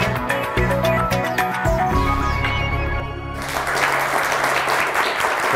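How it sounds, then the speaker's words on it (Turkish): Studio audience on a Turkish TV word quiz show breaks into loud, dense applause that continues steadily throughout, with a musical sting playing over the clapping in the first few seconds. "Siz öncesinde şu lazım olan alkışı bir duyun."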